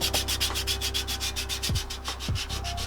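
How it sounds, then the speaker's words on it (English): Body filler being hand-sanded in a shaved car engine bay, rapid rhythmic back-and-forth rasping strokes, close and steady, with a few low knocks. "Then I can start sanding it down"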